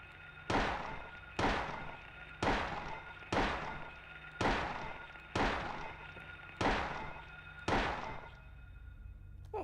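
Gunshots fire at downed enemies in the Silent Hill video game, eight heavy booming blasts spaced about a second apart in a steady, regular rhythm, with no talking.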